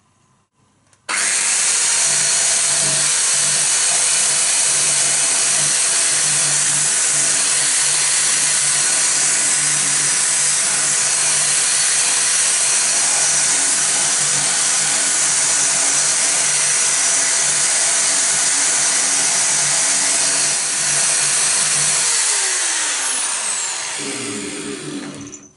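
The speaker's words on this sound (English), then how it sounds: "The rust is quite heavy, so I'm going to do some grinding now." Power tool grinding heavy rust off the parts of an antique Kamm 35mm film projector, a loud, close, unbroken high whine that runs for over twenty seconds before winding down at the end.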